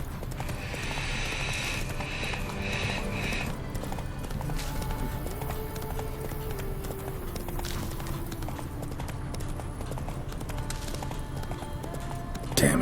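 A horse galloping across open country in The Witcher 3, steady clip-clop hoofbeats running throughout over a continuous game music and ambience bed, with a brief whinny possible, no talk.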